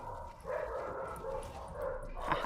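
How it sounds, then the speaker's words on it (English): Several dogs barking indoors after a doorbell rang, a run of moderately loud repeated barks and yips at a steady rhythm, slightly distant, with no talk over them. "Excuse the dogs."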